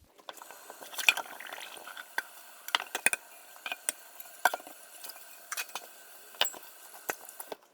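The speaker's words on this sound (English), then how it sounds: "So I think I'll do these dishes now." Dishes being washed in a kitchen sink: irregular clinks and clatters of cutlery and plates against each other, with soft running and sloshing water between the knocks, close and fairly clear.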